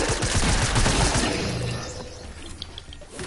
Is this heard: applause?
no